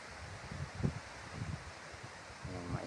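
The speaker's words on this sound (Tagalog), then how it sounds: "lakas ng hangin sa taas" Strong wind gusting high on a mountainside facing the Canlaon volcano, buffeting in uneven bursts of rough rumbling noise against the microphone, heard alone with no talk.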